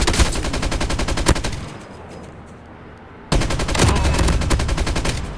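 Gunfire in a shooting video game, with loud rapid automatic bursts that stop for a short quiet gap and then start again just as hard.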